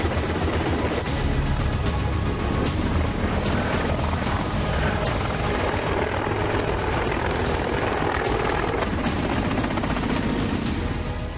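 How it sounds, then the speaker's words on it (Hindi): An Air Force Chinook helicopter lands and takes off on a highway airstrip, its rotor thudding in a loud, dense, continuous roar close by, with no speech. "जिस पर सुबह सवेरे एयरफोर्स के हेलीकॉप्टर चिनूक की धमक सुनाई पड़ी।"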